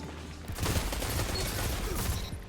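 Jian 7 pulse rifle in Destiny 2 firing in quick bursts, several clustered shots with mechanical clatter, fairly loud and close over game ambience.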